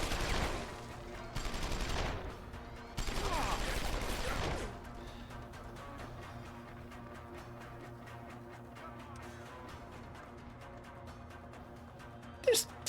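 Automated turrets in Deus Ex: Human Revolution fire in loud sustained bursts: a first burst, a second, then a long one, after which a quieter game ambience with faint ticking follows and a sharp click sounds at the end.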